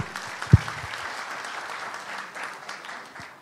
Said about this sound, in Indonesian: Beri kita tepuk tangan muda Pak Gub